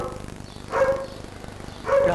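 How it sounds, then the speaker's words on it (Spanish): A dog gives two short barks about a second apart, moderately close and clear, with a low steady background hum between them. "Me había parecido oír una vaca, pero resulta que era un perro."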